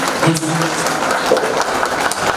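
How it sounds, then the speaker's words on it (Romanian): Guests at a ceremony honouring couples married fifty years applaud, a steady, moderately loud patter of many hands, with a voice briefly sounding over the clapping near the start. "Haideți o dată să o aplaudăm"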